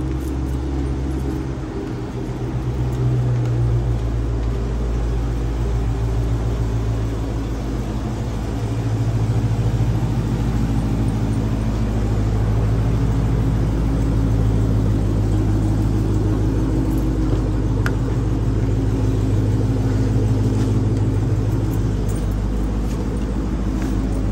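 A Dodge Hellcat's engine, started remotely, settles into a deep, loud idle rumble close by, steady and continuous with a slight swell after the first few seconds; no talking is heard.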